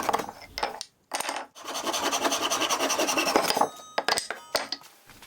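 Wooden dowels for a boot rack being cut to length by hand, with rhythmic rasping saw strokes in a close, steady run, broken by short pauses and a few lighter scrapes at the start and end.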